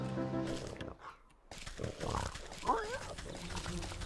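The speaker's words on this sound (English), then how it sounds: "You can hear the runty swine squealing, even before you see her." A runty pig squeals in the video game Wytchwood, its short, wavering squeals rising out of a busy game soundscape of music and ambience, moderately close.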